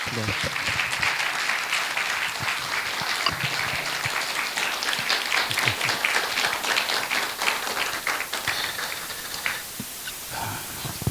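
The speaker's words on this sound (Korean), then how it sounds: "우리 힘찬 박수로 고수 목사 맞이하면 좋겠습니다" Enthusiastic applause from a church congregation, dense clapping that swells and continues for several seconds before tapering off slightly at the end.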